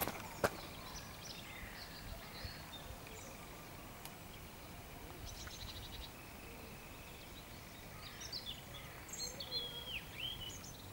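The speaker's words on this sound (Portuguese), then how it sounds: "ficar escutando esses pássaros nesse mato é gostoso" Faint birdsong drifts through quiet woodland, scattered chirps and short calls over a soft outdoor hush, distant rather than near.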